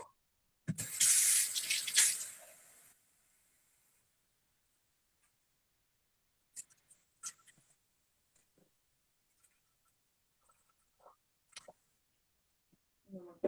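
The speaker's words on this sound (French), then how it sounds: "il faut mettre 180 grammes d'eau" Water running from a tap or being poured for a chia seed jelly in a home kitchen, a short splashing burst at the start, followed by quiet scattered clinks and handling noises.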